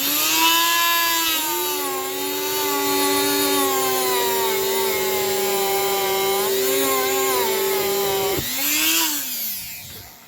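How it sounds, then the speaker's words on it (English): A Dremel rotary tool works a rusty part from a 1950s Poppo owl novelty clock held spinning in a drill, giving a loud, steady high-pitched whine whose pitch dips and shifts several times before it winds down near the end. "I put it in my drill, using my Dremel"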